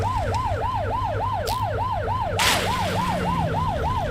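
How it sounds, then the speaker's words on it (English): A police car siren in the video game The Precinct wails in a steady, rapid up-and-down warble throughout, loud and close, with a low engine hum beneath and a brief burst of noise partway through. "Get behind them and blip the siren to make them pull over."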